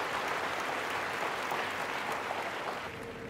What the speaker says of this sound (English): Let's have a round of applause for RDX's solutions.